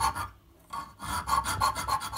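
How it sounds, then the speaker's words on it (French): A small round file rasps a hole in a handmade knife, close-up rhythmic back-and-forth strokes with a brief pause before a quick run of even strokes. "Avec une petite lime ronde, on va venir faire un petit trou là."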